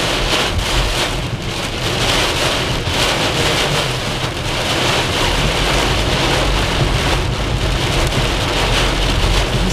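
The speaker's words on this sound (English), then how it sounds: "So it just got super rainy." Torrential downpour drumming on a car's roof and windows, heard from inside the vehicle in Cincinnati; a dense, steady, loud roar of rain that continues for the whole stretch with no voices.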